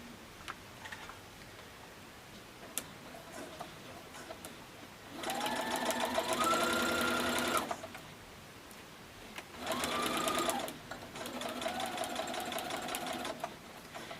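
A Baby Lock Jubilant sewing machine stitches a quarter-inch seam through bulky quilted stocking seams, its steady whirring runs coming in three separate bursts with quiet pauses in between.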